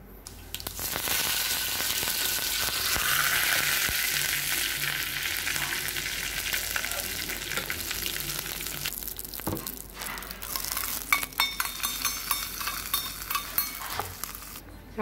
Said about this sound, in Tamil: இப்போ இதுக்கு தாளிக்க ஆரம்பிச்சிடலாம். கடுகு 1 டீஸ்பூன். உளுத்தம்பருப்பு 1 டீஸ்பூன்.